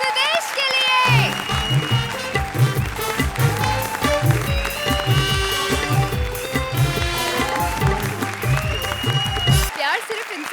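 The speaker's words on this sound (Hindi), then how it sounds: "जोरदार तालियां कृष्णा और सुदेश के लिए।" A studio audience at a TV comedy show claps for performers Krishna and Sudesh while loud, rhythmic stage music with a thumping beat plays over the applause, and both stop abruptly at the end.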